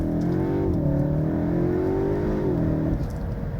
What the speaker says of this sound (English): the engine noise through the speakers just doesn't do the 2-litre justice